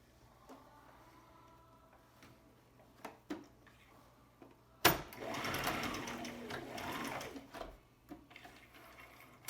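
A sewing machine stitches back and forth over the elastic of a fabric scrunchie. After a few quiet clicks, one loud, continuous burst of close stitching runs for several seconds.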